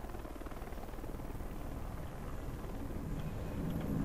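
Helicopter in the shooter game Dark Sector, a steady close rotor drone with dense low throbbing that swells slightly toward the end, no talk over it.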